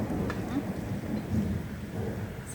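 Steady rain falls with low rumbles of thunder rolling through, a broad continuous wash of sound that stays fairly loud and even from start to finish.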